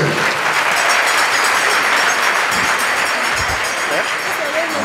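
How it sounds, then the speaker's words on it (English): A large audience applauds steadily and loudly at a formal gathering welcoming a guest of honor, with sustained dense clapping throughout. "Round of applause for him."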